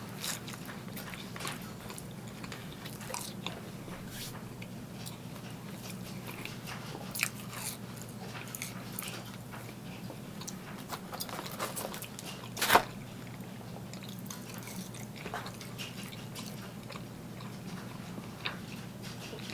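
Someone biting into and chewing steak fries from a brick oven pizza place, quiet close crunches scattered over about twenty seconds with one sharper bite partway through.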